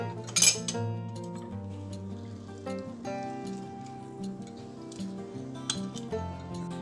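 Potato chaat is mixed with a spoon in a bowl, giving scattered light clinks and scrapes against the dish over a low, steady background hum, with no voices.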